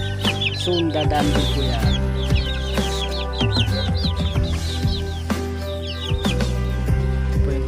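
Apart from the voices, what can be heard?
chicks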